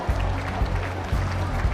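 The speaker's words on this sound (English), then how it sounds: "Let's have a round of applause for the Blue Alliance, who has been eliminated" Crowd applause fills an arena at a robotics competition, a steady wash of clapping and cheering lasting under two seconds.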